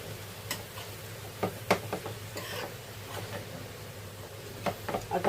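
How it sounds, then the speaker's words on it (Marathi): Dill, spinach and chickpea greens stirred with salt in a pan give soft, scattered scraping and clicking taps over a low, steady background hum. "आणि हे बघ मीठ टाकून परत आता हे मस्त असं मिक्स करून घेऊया।"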